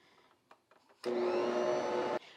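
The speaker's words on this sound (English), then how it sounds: "now I'm going to start my mixer and put it on a low speed" An electric stand mixer kicks on at low speed for dough for Thanksgiving rolls, a steady loud motor whir with a sudden start, running about a second before cutting off, with faint handling noises beforehand.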